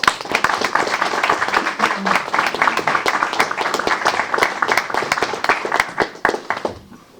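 A council meeting audience gives a round of applause: many hands clapping in a brisk, crisp patter that runs steadily for about seven seconds before tapering off.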